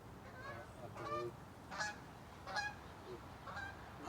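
Geese flying over a lake honk several times in a loose series of nasal calls, moderately distant and fairly faint over a soft outdoor background.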